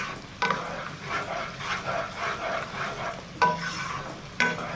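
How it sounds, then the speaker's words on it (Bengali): Vegetables for fried rice stir-fried in a pan, with a steady sizzle under repeated scraping and stirring strokes of a spatula, close and moderately loud, and no talking. "এইভাবে আরো এক মিনিট আমি নাড়াচাড়া করে নেব।"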